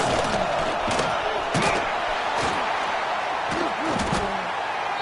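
A roaring stadium crowd fills a College Football 26 game, a dense, loud wall of cheering with thumping accents, while commentary talks over it.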